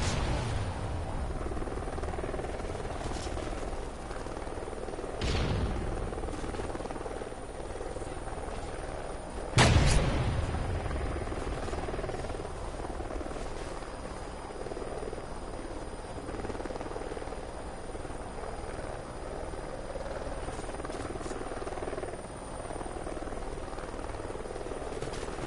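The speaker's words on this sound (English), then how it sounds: "Helo scout on the way." Scout helicopter from the multiplayer shooter Call of Duty: Ghosts, its rotor droning steadily throughout amid scattered gunfire, with one loud boom near the middle.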